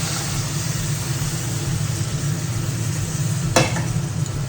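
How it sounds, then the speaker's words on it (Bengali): Chicken butter masala gravy being stirred in a pan, a continuous low bubbling sizzle with one sharp scrape of the spoon near the end, close and steady with no speech. "এবার একটু ভালোভাবে নেড়ে নেব।"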